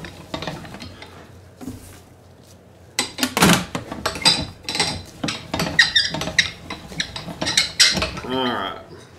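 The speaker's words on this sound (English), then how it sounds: "on this mixer, you're supposed to turn the mix to the right. So I'm gonna mix it up real good." Venison sausage meat is churned in a hand-crank mixer, giving irregular squeaks, clinks and scraping bursts of metal against meat that grow busier after a quiet start.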